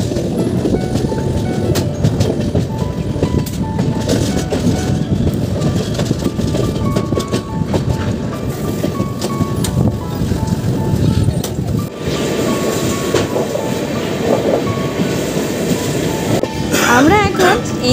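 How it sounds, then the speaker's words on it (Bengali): The 13147 Uttarbanga Express rolls along tracks beside tea gardens near NJP station, a steady loud rumble and clatter lasting throughout, with voices talking over it. "যাচ্ছে ট্রেন"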